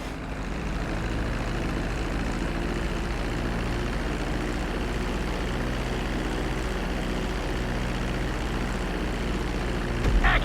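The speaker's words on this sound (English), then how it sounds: "Start reducing the plane's altitude gradually so you're just above the runway as you approach." A propeller airplane descends toward a runway in the video game GTA 5, its engine droning steadily with a low tonal hum, loud and close throughout, and a brief bump near the end.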